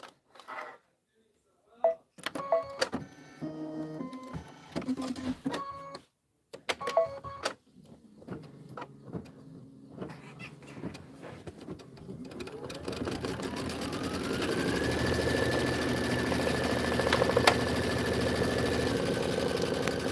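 Embroidery machine stitching an autumn border, with stop-start bursts of fast mechanical stitching early on, then a steady loud run with a rising motor whine, with a voice talking at times.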